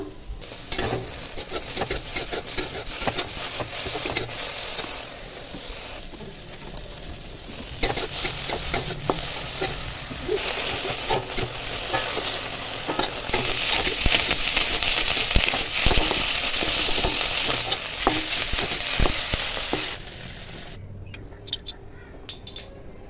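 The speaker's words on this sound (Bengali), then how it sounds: "সেই লাল শাক ভাজা বসিয়ে দিয়েছি" Continuous sizzle of red amaranth leaves frying in a pan, with scattered stirring scrapes and clinks throughout; the sizzle cuts out near the end.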